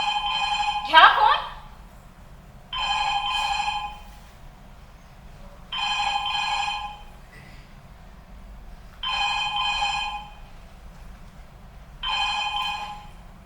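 Five regular bursts of an old-style telephone bell trilling, each about a second long with steady pauses between, on stage in a Marathi theatre play; a short voice cuts in at the start.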